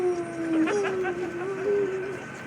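A voice imitates a Siberian Husky howling, one long wavering drawn-out howl held close and loud for a couple of seconds, alone with no other talk.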